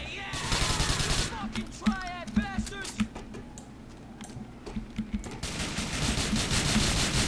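Kalashnikov rifle fire in the video game GTA 4 sounds in short bursts of rapid shots mixed with game effects, moderately loud over a steady background hum, with someone talking.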